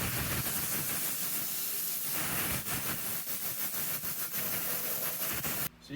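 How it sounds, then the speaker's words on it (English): Compressed air at about 120 PSI blasts loose paint off a Chevy Express van, a loud, steady, close hiss running almost without a break before stopping abruptly near the end. "So you can see that the air basically blasted a lot of this paint right up off here"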